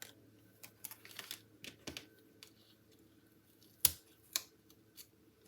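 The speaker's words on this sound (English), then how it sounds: "Then I'm going to cut it." Scissors cut paper for a handmade card, producing scattered short snips and rustles close by, with one sharper snip near the middle, quiet and without talk.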